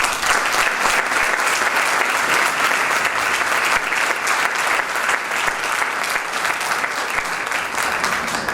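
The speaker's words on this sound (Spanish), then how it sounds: "Les pido un aplauso para..." An audience at a panel event gives sustained, even applause for more than eight seconds, a dense and fairly loud clapping with no speech over it.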